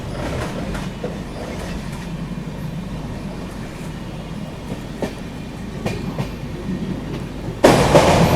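Steady rumble of the Deccan Queen Express passenger train moving at high speed, with rhythmic clickety-clack of wheels over rail joints, a few sharp clanks, and a louder burst of clatter at the end.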